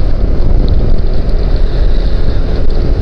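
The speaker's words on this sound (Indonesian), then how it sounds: "Wah, anginnya sangat kencang sekali teman-teman." Strong wind buffets the microphone at a Solo–Jogja toll road concrete-paving site, a loud, steady low roar with no talking.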